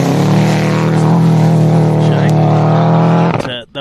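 A rally car on a gravel special stage of Rally South Canterbury, New Zealand, roars loud and close with a sustained high-revving engine note. The sound cuts away sharply as it passes.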